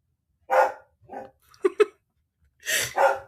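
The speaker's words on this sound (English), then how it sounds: "You don't have to bark now." A farm dog barks several times alone: a couple of separate woofs, a quick pair of short yips, then two louder barks close together, all near the microphone.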